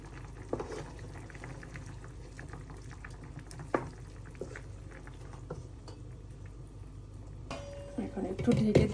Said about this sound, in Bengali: এই যে ঝোলটা ফুটে উঠছে